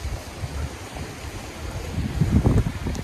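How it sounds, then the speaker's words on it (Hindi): Rushing water of a mountain waterfall in Kargil, Ladakh, a steady broadband roar with wind buffeting the microphone, growing slightly louder toward the end. "फाइनली हम पहुंच गए वाटरफॉल में।"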